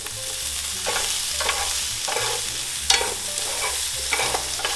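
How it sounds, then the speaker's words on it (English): Cucumbers and beef stir-frying in a pan over lowered heat, a steady sizzle with repeated scraping strokes of a utensil and a sharp clack near the end, close and fairly loud with no talking. "Now lower the heat and combine the stir-fried cucumbers with beef."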